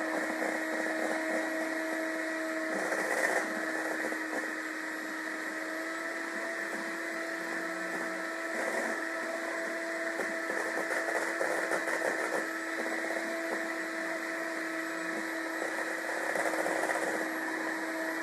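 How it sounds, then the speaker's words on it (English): A hand mixer whipping lemon coconut cream pie filling until fluffy, a steady loud motor whine running the whole time, with the beaters rattling in the bowl now and then and no talking. "I'm probably going to switch to my hand mixer real quick"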